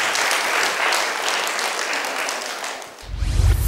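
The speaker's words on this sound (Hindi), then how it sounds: "आप मेरे लिए तालियां बजा सकते हैं।" An audience claps steadily at a quiz event in the Shravasti Buddhist vihar in Nagpur. The applause is dense and sustained, then breaks off near the end into a low rumbling thump.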